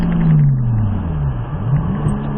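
A Nissan Skyline R34 GTR engine pulls hard under throttle, its loud, steady drone sliding down and climbing again through gear changes, close and continuous with no voices.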